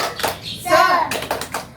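A class performs the rhythmic tepuk semangat spirit clap: short bursts of hand claps in a patterned beat, with the children chanting along between them.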